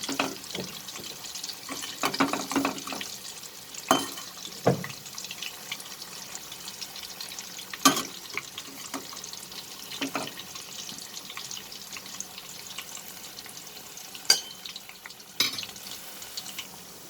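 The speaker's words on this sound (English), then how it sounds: "We fry these corn fritters properly and then just turn them so that it gets cooked from both the sides." Corn fritters frying in oil, a low bubbling sizzle broken by scattered sharp clicks and scrapes as they are turned, fairly quiet and steady.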